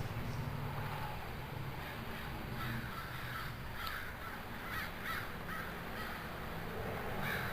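Crows cawing outdoors, several harsh calls repeating in an irregular series at middle distance over a soft wind-like background hiss.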